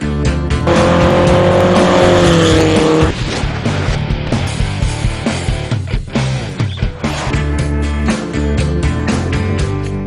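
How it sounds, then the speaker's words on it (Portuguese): Vintage Brazilian race cars from an automobile museum accelerate on a street, their engines roaring loud and continuous, revving and shifting pitch as they pull away. "carro de corrida gosta mesmo é de acelerar"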